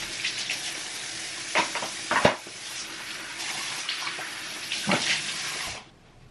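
Running tap water splashes steadily as someone washes their face at a sink, with a few louder splashes and slaps of water from the hands before the flow stops.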